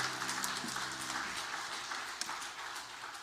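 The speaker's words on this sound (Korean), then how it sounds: "섬겨주신 시온 찬양대를 위해서도 박수 한번 해주시죠." A church congregation at a Sunday worship service claps for the Zion choir; the applause is moderate and diffuse, with a sustained musical tone fading out early beneath it.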